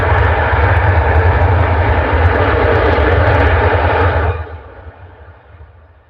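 A plane arriving at Manchester Airport in thick fog, its loud jet engine roar and low rumble heard steadily close by before fading away as it passes.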